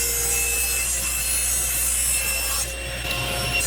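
Notches are cut in wood for a mid-century modern TV console, a steady close rasping saw sound that continues for several seconds and eases slightly near the end, with no voices.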